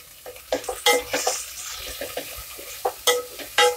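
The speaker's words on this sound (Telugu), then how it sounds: "ఉల్లిపాయ ముక్కలు బాగా ఎర్రగా అయ్యేంత వరకు వేయించుకున్నాము" Onion slices and a sprig of curry leaves fry in a pan for a sprouted horse gram curry, with soft sizzling broken by irregular clinks and scrapes of a spoon stirring against the pan, close and moderately loud.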